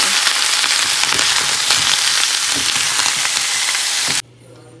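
Aubergine frying in a pan with potatoes and drumstick pieces gives a loud, dense, crackling sizzle close by that runs without pause, then cuts off abruptly near the end.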